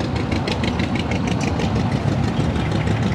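An antique rear-mounted engine, a small 40-horsepower unit at a tractor show, idles with a steady, slightly knocking chug, close and fairly loud, with no talk over it.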